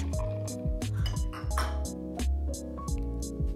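A cup of ice added to a thin mint frappuccino in progress with milk and chocolate syrup, bright clinks and rattles of cubes striking a container in quick irregular bursts, close and moderately loud over a steady music bed.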